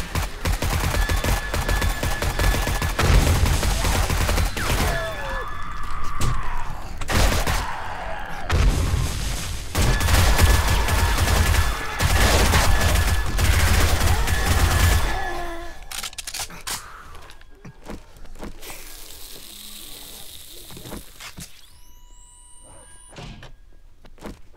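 Rapid automatic SMG fire in the 7 Days to Die survival game, dense bursts of shots and clatter filling the first fifteen seconds, then sparser scattered noises and a brief rising tone near the end.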